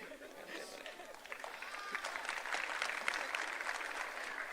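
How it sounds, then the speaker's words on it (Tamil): Scattered, uneven hand clapping from a concert audience at a Carnatic music festival in Dubai, fairly faint and steady throughout, with a voice speaking briefly over it. "எல்லாருமே செதறி தட்டுறீங்க"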